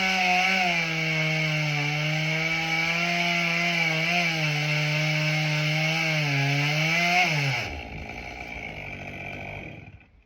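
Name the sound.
saw cutting through tree piece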